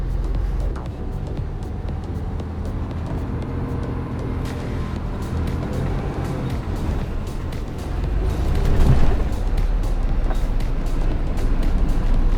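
Heavy truck engine rumbling low and steady as it labours over rough ground, swelling louder toward the end, with no talk over it.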